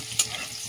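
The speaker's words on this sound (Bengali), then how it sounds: "রসুন কুচি আদা কুচি দিয়ে দিলাম তেলের মধ্যে, দিয়ে একটুখানি রসুন আদাটা একটু নেড়ে নিচ্ছি তেলে" Chopped garlic and ginger sizzle in hot oil while being stirred, a close, steady frying hiss with one brief louder scrape before the sound cuts off abruptly.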